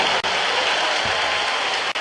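Church congregation clapping during a worship service, a dense, even roar of many hands that continues without a break across the short stretch.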